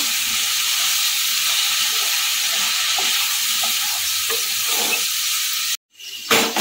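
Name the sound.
stirring sauce into chilli garlic prawn egg noodles in a pan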